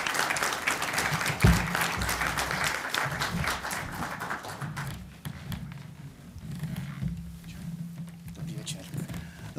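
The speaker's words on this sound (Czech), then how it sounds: "poprosím o potlesk pro Michala Romancova" Audience applause at a Czech evening talk on politics, a dense burst of clapping filling the room for the first half before thinning into a quieter murmuring hall.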